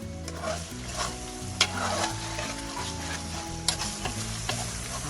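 Chicken karahi fries with spices in a pan, a steady sizzle under repeated scraping strokes of a spoon stirring, with a few sharper clinks against the metal, close and continuous.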